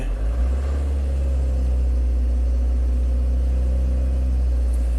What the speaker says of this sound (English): Let's see, rev it up a little bit.